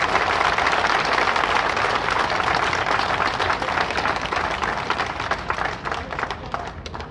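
A large rally crowd applauds in a dense, continuous roar of clapping that stays loud and steady throughout, thinning slightly toward the end.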